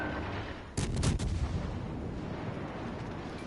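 Battleship Nagato's main guns firing high-explosive shells in a naval combat game: one sudden heavy boom-burst that rolls out and lingers as a rumbling tail, standing alone with no talk.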